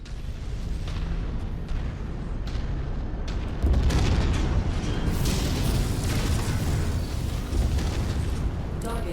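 An enemy mech blows apart in MechWarrior 5, a loud deep rumbling explosion swelling midway and rolling on amid constant battlefield noise and metallic clatter, with voices heard over the din.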